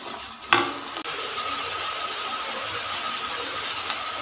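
French fries for a crispy KFC-style batch go back into hot oil for a second fry, bubbling in a steady close sizzle with a sharp clink early on.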